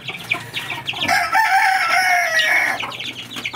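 A rooster crows loudly and close among farm chickens, one long drawn-out call in the middle with clucking before and after; no talk.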